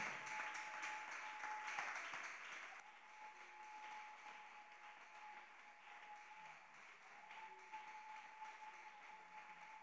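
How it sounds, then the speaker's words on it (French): A church congregation applauds in praise of the Lord, the clapping steady and moderately loud throughout and easing slightly after the first few seconds, with a sustained tone running beneath it. "Nous continuons d'acclamer le Seigneur."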